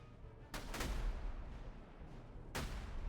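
Gunfire in the Napoleonic-era strategy game Master of Command, a Prussian Freikorps battle: a steady rumble of battle noise broken by a few sharp, loud volleys of musket fire, with no talking.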